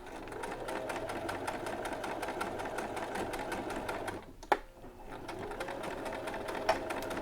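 Sewing machine zigzag stitching a washcloth, a fast, steady mechanical rattle of needle strokes close by, briefly pausing midway with a click before resuming at the same even pace.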